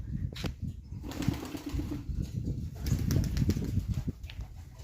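Pigeons flapping their wings at an open dovecote, with several bursts of wingbeats at close range, irregular and overlapping, over a busy background.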